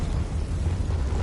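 A low, rumbling blast from the Confringo fire spell in the video game Hogwarts Legacy, booming loud and sustained for about a second with no voice over it.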